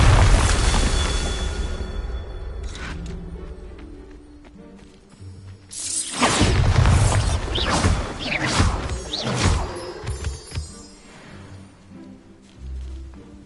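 Hogwarts Legacy's Bombarda blasting spell goes off as a loud boom with a whoosh and crashing debris, followed by smaller rumbling impacts and game effects that fade, with no talk.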